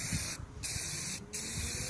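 Aerosol spray paint can hissing steadily as paint is sprayed onto a BMX bike part, with two short pauses between bursts, close and continuous.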